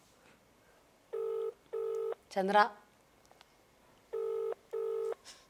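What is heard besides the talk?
outgoing telephone call ringing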